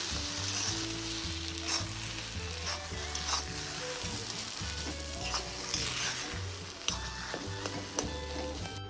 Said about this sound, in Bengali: একটু গরম মশলা দিয়ে দেব। এবার আমি এটাকে নেড়ে চেড়ে নামিয়ে দেব।